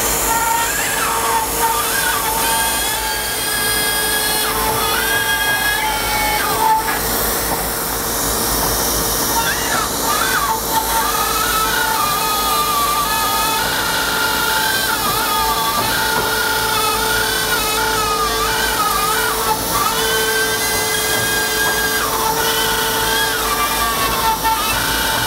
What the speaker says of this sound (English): And just that easily, I've cut two holes in this sheetrock.